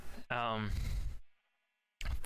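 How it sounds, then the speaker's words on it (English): Sheep bleat in a Rocket League–style game, one loud wavering bleat after a short burst of talk, followed by a fading tonal tail, silence, then speech returns. "What the fuck is with these sheep?"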